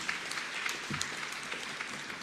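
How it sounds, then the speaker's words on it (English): Applause from an audience at an exhibition event, a continuous faint-to-moderate patter of many hands clapping at a distance. "A round of applause will do."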